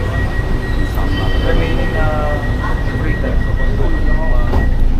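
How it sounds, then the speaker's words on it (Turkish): A metro train in Manila, Philippines runs with a constant loud rumble and rattling, with faint squeals and tonal whines riding over the low drone. "Bu arada metro bu şekilde yürüyor."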